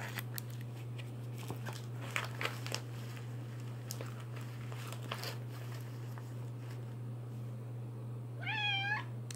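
A cat named Charlie, worked up on catnip, makes faint chewing, rustling and crinkling noises under a steady electrical hum, ending with a clear meow near the close.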